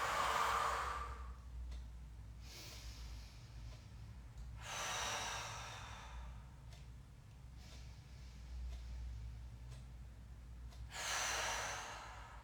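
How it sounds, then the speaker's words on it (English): Slow deep breathing during a breathwork exercise for sports performance, with three long, strong breaths spaced several seconds apart, close to the microphone, and quieter breaths between them, with no talking. "I'm getting the breath into my back."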